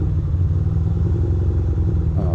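A motorcycle engine drones while the bike is ridden on a commute, giving a steady close-up low rumble that stays continuous and even, with no voices over it.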